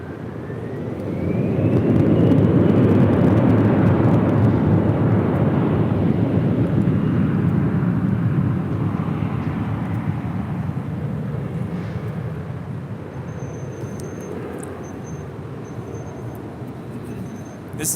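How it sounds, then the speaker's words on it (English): An Embraer E175 regional jet on takeoff from runway 24 left at LAX swells into a loud, broad engine roar within two seconds, then slowly fades as it climbs away, with faint higher tones near the end. "This is Delta Connection 3511 departing to Reno on an E175."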